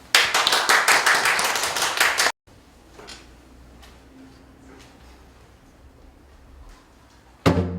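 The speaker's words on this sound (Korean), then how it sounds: "올라오실 때 큰 박수를 부탁드립니다." An audience claps at a charity love concert in a church setting ahead of a Korean traditional-music hymn performance. Dense, lively clapping lasts about two seconds, then cuts to a quiet room with faint shuffles and a sudden clap burst at the end.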